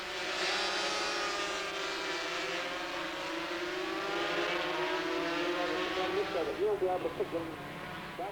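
Race cars at Silverstone during the 1983 Marlboro Final drone past as a steady, distant engine roar with rising and falling pitch, under continuous commentary from a voice.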